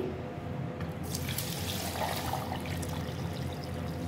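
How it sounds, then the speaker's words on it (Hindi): Water pours steadily into a mix of falsa berries and sugar for sharbat, a continuous close splashing rush with no talk. "तो इसमें अब मैं ऐड कर दूंगी पानी"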